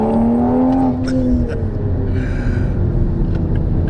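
A 2020 Toyota Supra accelerates on a highway, its engine droning loud and steady with a rising tone that then settles, under constant road and wind rumble, with no talk.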